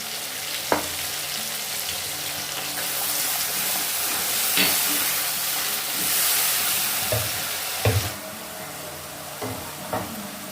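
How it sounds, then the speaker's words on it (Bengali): A mustard and green chili paste hits hot oil, setting off a loud, steady frying hiss that swells in the middle and settles, with a few scattered pops and clinks of the pan near the end. "পেস্টটা এবার আমি তেলের মধ্যে দিয়ে দেব"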